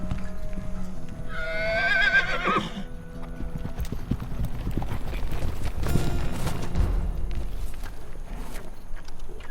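A horse gives a loud, shrill whinny near the start, then its hooves clop in uneven steps over several seconds, with a louder burst of hoof and movement noise midway, set against a low background rumble.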